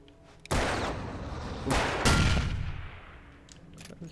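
Gunshots from the Alan Wake video game: two loud, close reports about a second and a half apart, each with a booming decay that rings out and fades.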